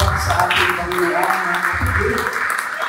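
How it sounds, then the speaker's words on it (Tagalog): A church congregation applauds loudly, a dense, sustained wash of many hands clapping together, with voices talking and calling out over it throughout. "Malakas na palakpak sa ating Panginoon."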